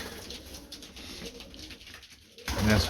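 Male pigeons coo softly against a steady background hiss, with a louder, closer coo at the end.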